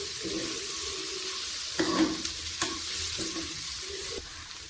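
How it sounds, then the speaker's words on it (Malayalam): Peeled quail eggs stirred into a potato roast in a pan, soft sizzling under irregular scraping and knocking of the spoon, close and fairly quiet with a few louder clatters. "ഇനി പൊളിച്ചെടുത്ത കാടാമട്ട ചേർക്കാം എല്ലാം കൂടി നന്നായി യോജിപ്പിച്ചെടുക്കണം"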